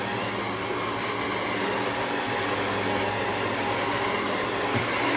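Hair dryer blowing on a man's hair during a grooming routine, a steady close whooshing motor drone with no breaks throughout.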